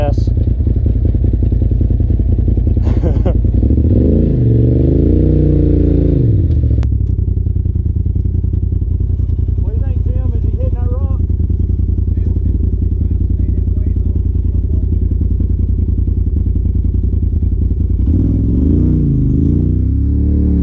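An off-road vehicle engine rumbles loudly and close as it crawls up a bank on an old rail bed trail at Black Mountain, rising in a few revving surges, while a voice briefly talks over it.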